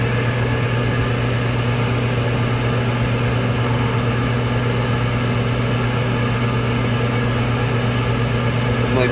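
An old York gas furnace burns steadily after relighting, giving a constant loud low roar and hum with no pauses, close by and unchanging for the full stretch.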